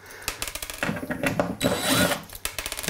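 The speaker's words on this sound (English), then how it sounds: "we want to remove all the hardware from all of our surfaces, and that's as simple as pulling the screws" Screws being backed out of kitchen cabinet hardware with a power drill during a DIY remodel, a close run of short whirring bursts and clicks with brief pauses between them, no talking.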